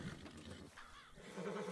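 Faint horse whinnies and neighing from horses in Red Dead Redemption II, low and distant-sounding within soft game ambience, rising slightly near the end.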